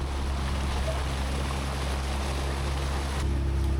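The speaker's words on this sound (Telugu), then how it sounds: "ఇదిగోండి, ఇదే మన రైట్ సైడ్లో ఉన్నదే మనం వెళ్ళబోయే బోటు" A passenger motorboat carrying around ten people on a dam reservoir drones steadily throughout, its engine hum and water rush continuous and close, with a slight shift in tone near the end.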